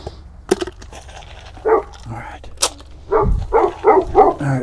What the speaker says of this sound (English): Oh, sissy, barking at a car